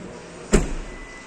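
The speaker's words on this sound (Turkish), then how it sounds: "Şöyle yavaş yavaş bagajı kapatalım." The trunk of a Hyundai Tucson Comfort is closed slowly, ending in a single solid thump with a short rattle trailing after it, close and alone.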